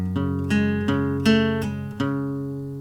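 Acoustic guitar in drop D tuning plays the opening riff of a song, about five plucked chord strikes in a slow rhythm, each ringing out and decaying, close and clear with no talking.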